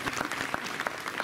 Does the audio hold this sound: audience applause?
yes